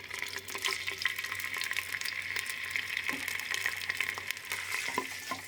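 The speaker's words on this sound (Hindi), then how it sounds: "तेल डाल दिया, प्याज," Onions frying in oil give a soft, steady sizzle and crackle throughout, with faint stirring noises over the hiss and no voices.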